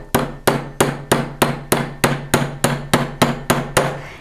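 Small rounded hammer end striking sheet metal to raise ruffles in fold forming: twelve sharp, ringing blows at a steady rhythm about every third of a second, close and loud with brief metallic decay.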